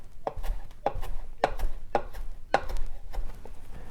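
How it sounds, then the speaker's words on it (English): A knife roughly chops salad vegetables on a board for an Afghan salata, about six evenly spaced crisp thuds close by, with no talking. "to get a rough chop"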